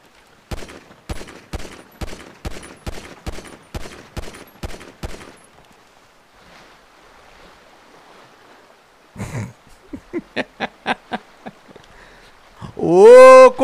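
Gunfire in a video game: a rapid burst of about ten evenly spaced loud shots, a short lull, then shots into water splashing and a further quick series, ending in a loud blast.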